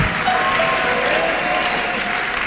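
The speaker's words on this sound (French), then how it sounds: "Acclame très fort le roi" A church congregation applauding and cheering loudly, dense sustained clapping from a large crowd filling the room without pause.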